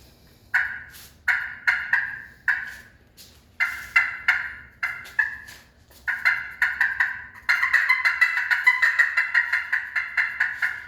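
A hand-operated turkey call imitates a wild turkey's fly-down cackle: spaced, loud yelps speed up into a rapid, excited run of notes, heard alone and close.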